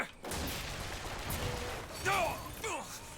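Turret gunfire in BioShock Infinite: a steady stream of distant rattling shots forms a noisy bed, with brief vocal sounds cutting through near the end.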